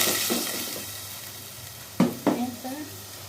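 Loud hissing sizzle from a hot frying pan of chili and spices that fades, then sharp bursts of spattering as water hits the oil.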